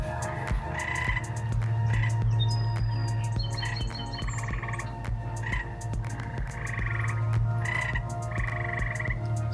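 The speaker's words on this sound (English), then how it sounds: "These frogs are going nuts." A loud chorus of frogs croaks nearby in a garden where tomatoes are being planted. Rhythmic pulsing croaks repeat in bursts over a steady low drone, with a few bird chirps in the background.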